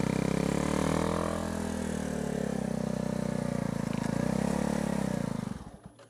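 A motorcycle's engine drones loudly and steadily as its rear wheel spins on pure ice while riding on the road, the revs wavering slightly for about five seconds before cutting off abruptly.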